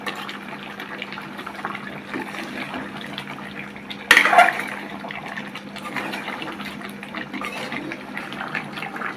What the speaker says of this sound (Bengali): আমরা একটু গরম পানি দিয়ে একটু মিক্স করে দিছি।